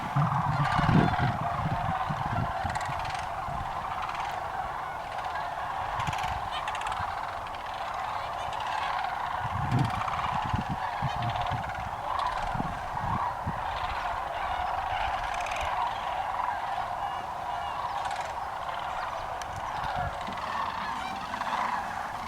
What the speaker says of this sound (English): They gather in big flocks and have distinctive bugling calls.